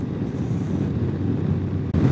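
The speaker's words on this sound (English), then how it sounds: "I don't know if you can hear my voice because the wind is so strong right here" Strong, steady wind buffeting the microphone while riding at highway speed, a loud continuous low roar with a brief dropout near the end and no voice over it.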